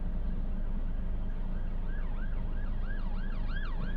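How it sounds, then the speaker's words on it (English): An ambulance siren wails in repeated rising and falling sweeps, growing clearer over steady loud road and engine rumble. "Siren."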